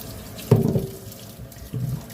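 Running tap water splashes into a sink while potatoes are washed, with a louder gush early on and a second softer splash near the end.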